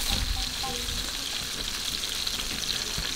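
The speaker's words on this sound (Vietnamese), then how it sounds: "Nhìn kiểu nó cá nó cứ xèo xèo là thích không các bạn ơi?" Fish frying in hot oil during a cheap-ingredient cooking challenge, a steady, close, dense sizzle with light crackles that runs through the whole stretch.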